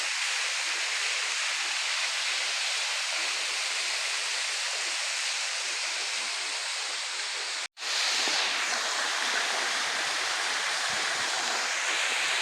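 A waterfall in the forest near Venkatagiri, a loud, constant roar of rushing water close by, broken by one brief dropout partway through.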